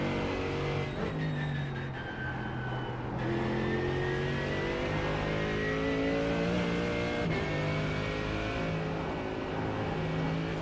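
Race car engine from a racing simulator on an out lap, a steady loud drone with rising and falling pitch through gear changes and a brief cut near three seconds, continuous throughout with no voices.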